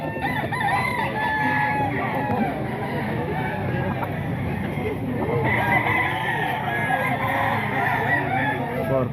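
Roosters crowing among chickens at a market stall of SBR gamefowl, the calls running steady and fairly loud over a busy, continuous crowd murmur with faint background voices.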